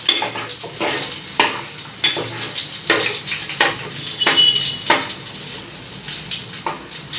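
Cumin seeds being stirred in a hot cooking pan, with a sequence of scraping and sizzling strokes from a spoon against the metal and a bright hiss under the strokes. Nobody speaks.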